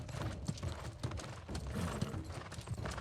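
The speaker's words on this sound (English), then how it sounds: "Be a nice thing to ride our horse for a while." Horse hooves clip-clop steadily in a rapid, continuous rhythm while riding in the video game New World, dense and close with a busy, gritty background.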